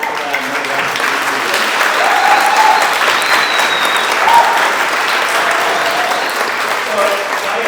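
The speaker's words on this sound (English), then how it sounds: "Give a huge round of applause for them." Loud, continuous audience applause for event organizers at an 88th birthday celebration, a full room clapping steadily with a few whoops and voices mixed in.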